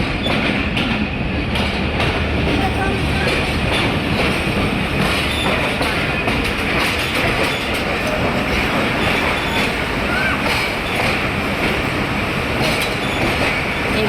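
Rehman Baba Express passenger train coach rolling into a crowded station, with steady loud clickety-clack of wheels on rail joints and some wheel squeal throughout.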